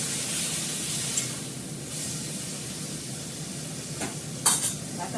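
Water poured into tempered pea dal in a hot pan, setting off a steady loud sizzle and hiss, with a few sharp bursts of spitting toward the end.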